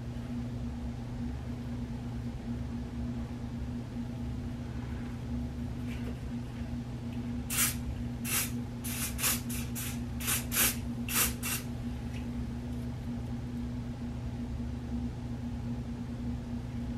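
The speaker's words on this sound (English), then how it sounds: "I'm going to be using the even spray. I'm just going to go ahead and spray that" A spray bottle of hair product mists onto a wig in a series of about eight quick short bursts, clustered in the middle against a steady low room hum and hiss.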